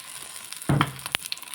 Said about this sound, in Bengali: এখন ভালো করে নেড়ে ছেড়ে আমি মশমশে করে চাপেটা ভেজে নিব